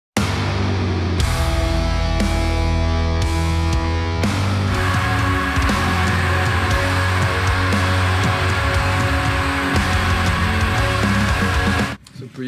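Song intro, a heavy band arrangement of guitars and bass, loud and dense, with a simple repeating melodic progression that cuts off at the end.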